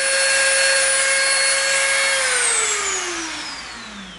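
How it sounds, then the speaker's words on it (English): A Dremel rotary tool sands the edge of an EVA foam disc, a loud high whine that holds steady, then drops in pitch and fades as the tool spins down at the end. "Now we're going to Dremel around the edge of our inner disc as well."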